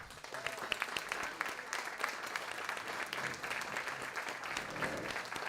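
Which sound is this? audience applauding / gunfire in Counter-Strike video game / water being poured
audience applauding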